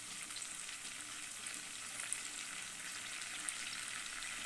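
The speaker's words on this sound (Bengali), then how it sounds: "দেখো বন্ধুরা, ঝোলটা কি সুন্দর ফুটে উঠেছে।" Fish curry gravy bubbling in a pan on the stove gives a steady, close sizzling hiss with faint crackles, unbroken for the whole stretch with no voices.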